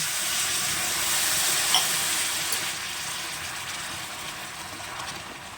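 Jaggery with ghee and a little water heats in a pan over a high flame, giving a steady close sizzle and hiss that eases slightly over time, with no speech.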